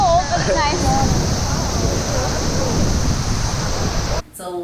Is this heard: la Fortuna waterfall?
yes